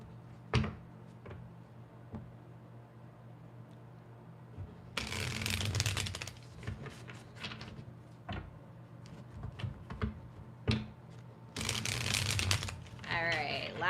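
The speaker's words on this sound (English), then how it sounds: "All right, last shuffle" Card shuffling during a tarot-style reading, two bursts of dense riffling clatter with short ticks and taps between, close and moderately loud, no talk over them.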